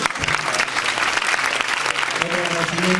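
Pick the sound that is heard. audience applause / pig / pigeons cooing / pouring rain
audience applause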